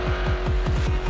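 A Supercars race car runs flat out downhill at Bathurst, its engine howling loud and close with a steady high tone over rapid, rhythmic pulsing throbs.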